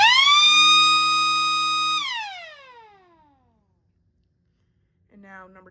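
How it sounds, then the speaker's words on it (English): A homemade siren build sounds a steady, loud electronic tone for about two seconds, then winds down in falling pitch to silence before briefly starting up again near the end. "going to 1, that is going to be just constant siren"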